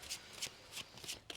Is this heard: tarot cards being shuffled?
yes